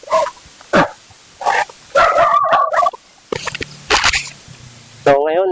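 A dog near a house where a litter was just born barks loudly in repeated bursts with short yips and whimpers, close by at night, while a person talks in between.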